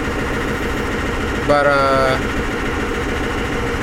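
A 7.3 IDI diesel engine with an E4OD transmission idles with a steady low rumble and a broad mechanical drone; a tonal whine or rattle briefly rises over it before dropping back, and someone speaks faintly.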